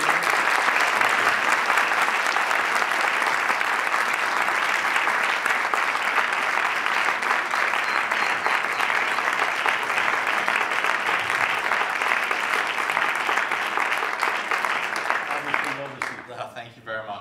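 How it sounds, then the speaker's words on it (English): An audience at Hellenic College Holy Cross gives a visiting guest speaker a sustained round of applause, a dense, steady wash of many hands clapping loudly for about fifteen seconds before thinning out at the end. "a round of applause for coming"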